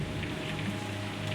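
Heavy rain pours down steadily over Cape Canaveral, a dense, even hiss of drops hitting surfaces, close and continuous with no voices.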